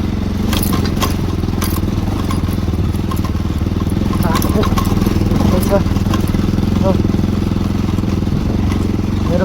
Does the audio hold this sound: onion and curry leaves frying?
no